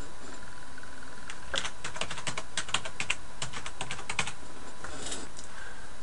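Rapid keystrokes on a computer keyboard enter a new folder name. Bursts of clicking come close and clear, with brief pauses between runs of typing and no speech over them.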